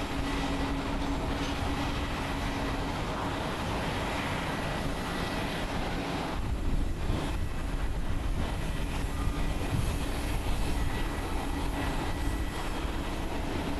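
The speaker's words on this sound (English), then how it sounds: "Next up is Japan Airlines Flight 47 departing to Helsinki, a Boeing 787-8 Dreamliner" A Japan Airlines Boeing 787-8 Dreamliner departing Haneda Airport in Tokyo makes a dense, continuous jet roar that holds loud and steady, swelling a little partway through.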